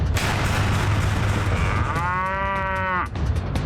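A cow moos loudly with a long, clear call at a village temple fire-walking festival, standing out over a steady crowd and outdoor rumble.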